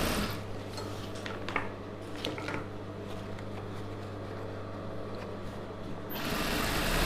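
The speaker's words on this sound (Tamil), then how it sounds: "இப்போ அப்படியே இதில் வந்து ஓர தையல் போட்டுக்கலாம்" A sewing machine runs steadily and fairly quietly while stitching the folded hem of a patiala pant, with a constant low motor hum throughout and a slight rise at the end.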